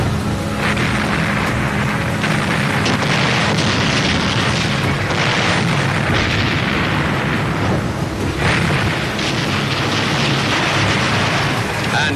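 Heavy naval bombardment covering an Allied seaborne landing in southern France: dense, continuous rumbling booms and bursts overlapping one another, loud and sustained throughout with no talk.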